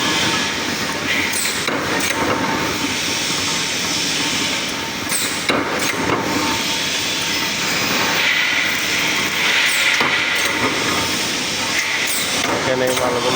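Power press machine blank-cutting metal parts, giving heavy repeated thumps and clanks over a loud, steady industrial din, with a voice faintly underneath.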